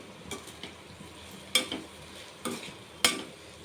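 A spoon stirring cumin powder into prawn curry in a pan, a few sharp scrapes and knocks against the metal over a soft sizzle, close and fairly quiet, with no talk.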